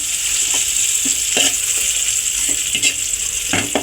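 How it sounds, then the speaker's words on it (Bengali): Onions frying and browning in a pan for masoor dal, a steady close sizzle throughout with scattered soft scrapes of stirring. "এই যে আমার পেঁয়াজটা ব্রাউন হয়ে আসছে"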